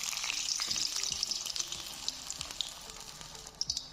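Mixed vegetable pakoras fry in hot oil in a kadhai with a bright, crackling sizzle, and small pops and spatters rise as more batter drops in by hand.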